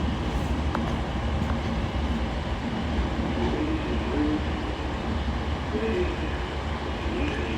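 An Avanti West Coast passenger train pulls out of Carlisle station on the West Coast Main Line, its steady low rumble and rolling rail noise holding constant and fairly close throughout, with no voices.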